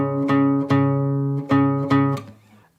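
Acoustic-style guitar picks out a phrase from the Assassin's Creed Rogue main theme, bar 39: five plucked notes ringing with sustained low harmonics, a steady repeated rhythm, played close and clear with no talking.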